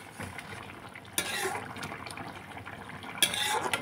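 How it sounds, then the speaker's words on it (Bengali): A lid comes off a cooking pot of bata fish curry with tomato and potato, giving a sharp metallic clink followed by light clattering and a second clack, close by against a soft kitchen background. "2 মিনিট পর ঢাকনা খুলে দিচ্ছি।"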